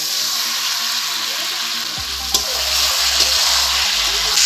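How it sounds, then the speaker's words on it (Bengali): Chicken kosha sizzles and fries steadily in a pan with chopped tomato and a splash of water, the crackle rising as the wet ingredients hit the hot oil and a low thudding stir pulses underneath. "এখন একটু কষিয়ে নেব"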